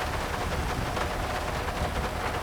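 Rain falls in GTA 5 during an off-road drive, a dense, even hiss of steady downpour with no voices over it.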